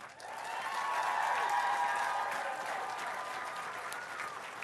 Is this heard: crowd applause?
yes